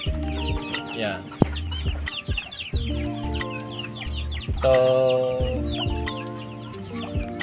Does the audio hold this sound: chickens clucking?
yes